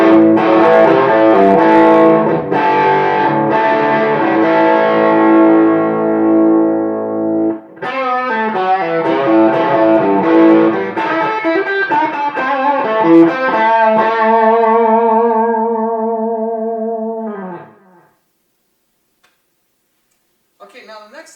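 Crunchy overdriven electric guitar through a Jet City amp on the bridge pickup, playing sustained chords and a melodic run, with a trailing echo, loud and close, ending in a brief silence.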